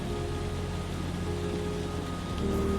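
Rain falls in Fiji during an ongoing spell of bad weather, a steady dense hiss under a low hum of constant background tones, continuous and fairly loud with no talking.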